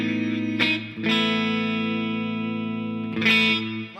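Electric guitar played through an ambient reverb effect with the decay raised to about halfway, sustained chords ringing in a long washy tail, with a couple of sharper strummed attacks retriggering the swell; loud, close and alone.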